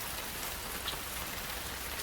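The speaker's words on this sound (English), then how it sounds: "watching raindrops race down the window panes" Rain patters against window panes in a dense, uniform wash of soft hiss, constant and close, with no voices over it.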